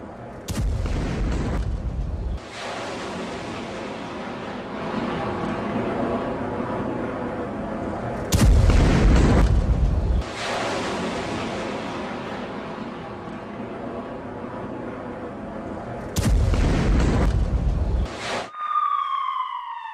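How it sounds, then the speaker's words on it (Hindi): Missile strike explosions in Beersheba, Israel, during an Iranian attack: three heavy, sharp blasts several seconds apart, each followed by a long rumbling roar and noisy aftermath, loud and unaccompanied by speech. "मिसाइल गिरते ही जोरदार धमाका और उसके बाद लगी ये आग।"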